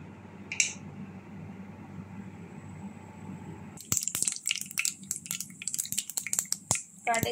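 Mustard seeds crackle and pop in hot oil in a pan for a Kerala-style stir-fry, a dense burst of sharp close spluttering that starts midway and keeps snapping irregularly after a quieter sizzle.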